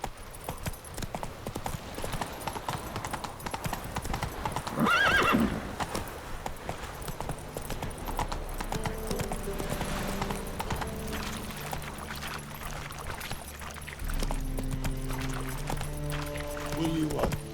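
Geralt's horse Roach in The Witcher 3 gallops with steady clip-clopping hooves and gives a clear whinny midway, accompanied by game ambience, background music and occasional voices speaking.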